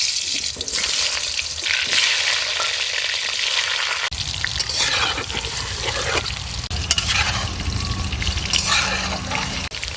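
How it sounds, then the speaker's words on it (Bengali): Loud, steady sizzling of potatoes frying in hot mustard oil in a kadai, with stirring scrapes and clatter breaking through now and then. "এখন আলু ভাজার জন্য সরিষার তেল দিয়ে দেবো"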